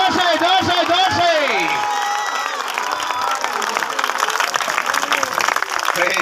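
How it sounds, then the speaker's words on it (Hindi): Church congregation clapping at a revival prayer meeting, brisk rhythmic clapping mixed with crowd voices and a preacher chanting over it, close and loud throughout. "तालियों के साथ जोर से जोर से जोर से।"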